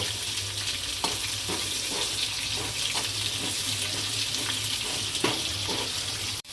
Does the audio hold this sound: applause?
no